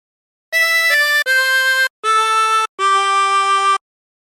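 A tremolo harmonica plays a short hymn phrase from "There's a River of Life Flowing Out of Me" as four or five sustained, reedy held notes with brief gaps between them, close and clear with no talking.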